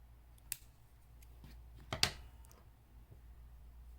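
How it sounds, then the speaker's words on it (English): Scissors snip yarn close to the cut while crocheting a popcorn-stitch pattern, giving a few sharp, quiet clicks, the clearest pair near the middle, with no talk. "I'm going to go ahead and snip it close."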